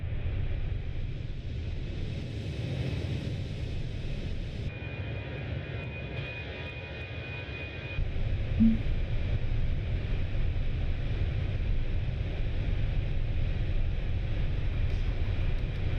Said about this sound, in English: Yeah, F-28's got some of the best engine sounds I ever heard.